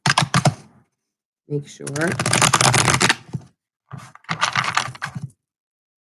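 Tarot cards are shuffled by hand in fast, crisp riffling bursts, close and fairly loud, broken by short gaps, while someone speaks briefly over part of it.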